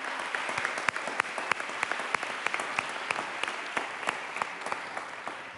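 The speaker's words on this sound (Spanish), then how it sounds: "Para ellas les pido un aplauso." Steady applause from a crowd in a legislative chamber in Buenos Aires, many hands clapping densely with a few sharper claps standing out, continuing without any talking.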